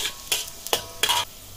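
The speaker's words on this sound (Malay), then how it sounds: "Kemudian tumiskan bawang putih yang dicincang halus." Minced garlic sautéed in oil in a wok, heard as three short bursts of scraping and sizzling from stirring, separated by brief near-silent gaps, close and moderately loud.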